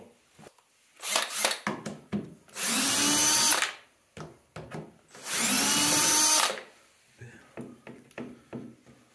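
Power drill backing screws out of old snowmobile parts during disassembly, two sustained whirring bursts of about a second and a half each, separated by clicks and handling knocks of the parts.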